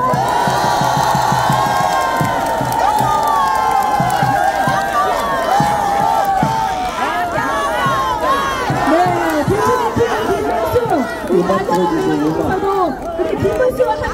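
Large outdoor crowd at a Korean presidential election rally in front of Bucheon Station, loud and sustained, with cheering, shouting and clapping swelling throughout under an amplified voice.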